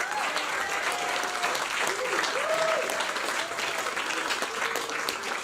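Audience applauding steadily for a performer after a show, dense sustained clapping with crowd noise throughout, a few faint voices audible beneath.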